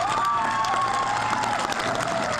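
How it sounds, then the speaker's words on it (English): A graduation crowd at the Robertson High School & Vista Alternative ceremony claps and cheers loudly for friends and family, forming a steady, dense wash of applause with whoops and shouts riding on top throughout. "Can we also give a round of applause to all the friends and family who have come today?"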